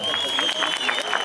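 Crowd at a jaripeo contest in Santa Catarina Minas, Oaxaca, applauding and cheering in a steady dense wash, with a whistle or shout ringing through, loud and close for a short burst.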